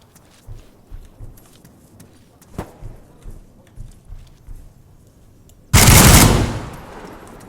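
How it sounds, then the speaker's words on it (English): Gunfire in the Arma 3 military shooter, a run of about ten evenly spaced, muffled distant shots followed by a sudden loud, close burst that rings out and fades. "It's either friendly shooting at me or enemy."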